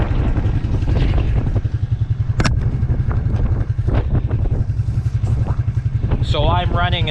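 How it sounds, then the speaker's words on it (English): A Suzuki King Quad ATV engine running in super low range, a loud, close, steady rumble with wind buffeting the microphone and some clatter, and someone talking over it. "when I roll with this King quad, for you guys that don't know, I'm rolling in super low"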